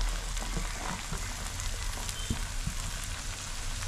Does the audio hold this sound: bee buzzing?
no